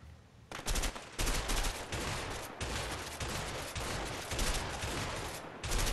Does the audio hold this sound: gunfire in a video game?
yes